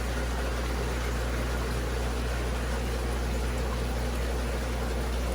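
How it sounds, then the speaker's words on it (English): Steady, continuous hum and broadband rush of an aquarium fish room's sump pump and filtration system running, with a low mains-like drone underneath and no talk. "That's the sump pump kicking on."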